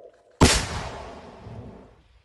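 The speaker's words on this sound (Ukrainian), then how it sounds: "Постріл!" A single heavy gunshot or artillery round fired at front-line positions on the Bakhmut front, a sudden loud boom followed by a long rolling echo that fades over about two seconds.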